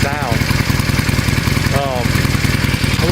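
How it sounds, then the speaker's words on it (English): A 2016 Harley-Davidson 48 Sportster XL1200X idles with a steady, loud, low exhaust rumble and even pulsing beats throughout, with brief faint rising tones over it. "A little bit of exhaust sound, exhaust stop."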